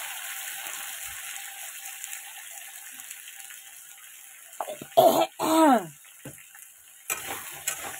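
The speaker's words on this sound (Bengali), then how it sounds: "এবার দিয়ে দেবো কেটে রাখা কচুরমুখী, বেগুন, আলু, এগুলো ভালো করে ভাজা করে নেব।" Oil sizzles softly as taro, eggplant and potato fry in a pan, then a burst of louder stirring and scraping and a cough or throat-clearing sound break in near the end.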